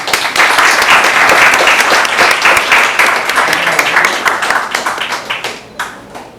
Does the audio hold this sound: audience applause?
yes